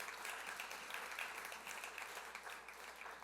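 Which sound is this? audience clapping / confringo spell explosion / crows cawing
audience clapping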